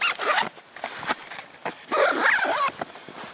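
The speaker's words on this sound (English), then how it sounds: "Nice big zipper pocket here you can put stuff in as well." A camera backpack's zipper pocket is pulled open and closed in several quick rasping strokes, close by, with small handling noises between them.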